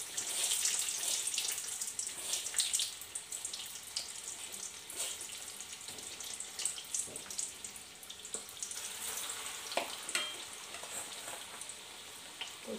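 Prawn cutlets fry in very hot oil, giving a steady, fairly quiet hiss and crackle with scattered brighter pops throughout.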